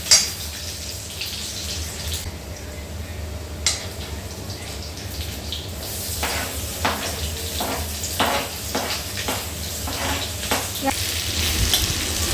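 Garlic and onion fry in oil in a pan for weight-loss chowmein. A continuous sizzle carries repeated stirring scrapes and utensil clinks that grow busier and louder toward the end, with no talking.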